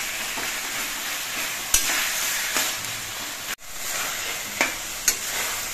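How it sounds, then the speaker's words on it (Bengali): Taro leaves cooking in a kadai hiss with a steady sizzle while a spoon stirs them, scraping the pan now and then in a few sharp knocks. "কচু শাকটা রান্না করার সময় কিন্তু কিছুক্ষণ বাদে বাদে নেড়ে দিতে হবে, যাতে কড়াইয়ের নিচে লেগে না যায়"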